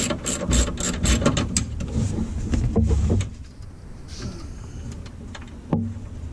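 A nut is loosened and removed on a Jeep TJ tilt steering column, heard as close ratcheting clicks and metallic mechanism rattles, loud at first and then quieter, with no talk.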